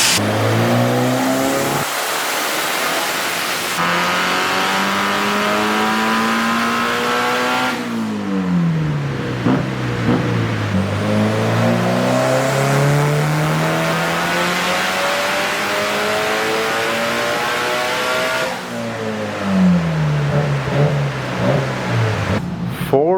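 A street-driven Mitsubishi Lancer Evolution IX turbo engine on a chassis dyno, loud and close, revving up through long sweeping pulls in several rising runs, with drops back to idle and pauses between runs.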